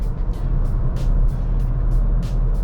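A Citroën C3 Aircross travels above 140 km/h, a loud, steady roar of road and wind noise with a low engine drone and faint regular whooshes.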